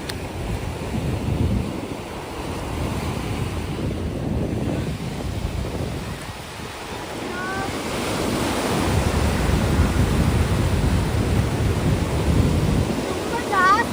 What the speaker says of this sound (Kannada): ತುಂಬಾ ಜಾಸ್ತಿ ಅಲೆಗಳು ಬರ್ತಿತ್ತು.